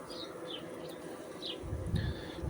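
A low, close hum of honeybees buzzing in an apiary hive in early season, with a few faint high chirps above the drone.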